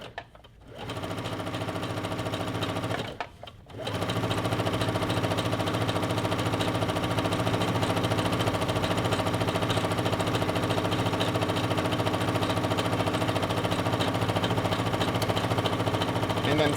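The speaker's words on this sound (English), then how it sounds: "And then sew this one closed." A sewing machine runs steadily as it stitches a fabric tube closed, a loud, close, fast rhythmic whirring hum that stops briefly near the start and then runs unbroken for the rest of the stretch.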